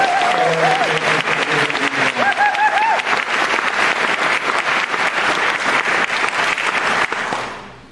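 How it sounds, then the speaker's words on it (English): A crowd at an evening climate talk breaks into a big, sustained round of applause, dense and loud, with a few voices and whoops rising over the clapping before it fades at the end. "A big round of applause for our"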